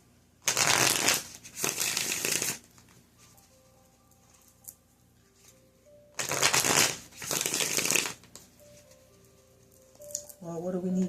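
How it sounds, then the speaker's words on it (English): A deck of playing cards split in half and riffle-shuffled in two bursts of rapid crisp flutters, close and loud, with quieter pauses between and a brief voice at the end. "Put it in half. Shuffle, shuffle, shuffle."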